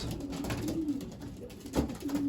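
Racing pigeons in a loft coo softly during morning hand feeding, a few low rolling calls close by over a faint background hum.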